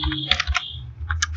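Rapid bursts of keystrokes on a computer keyboard while HTML code is being written, clustered clicks with a short pause in the middle, close and clear with no talking.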